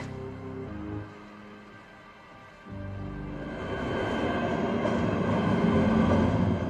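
Train rumbling at a station in a film scene, a quieter lull followed by a rising, steady rolling roar of rail cars growing louder and closer.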